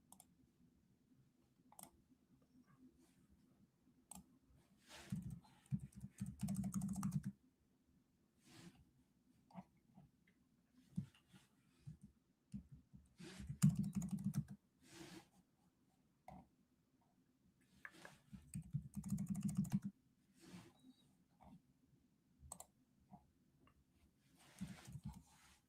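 Keys on a computer keyboard click in quiet, close bursts, with runs of rapid tapping separated by pauses and single isolated keystrokes.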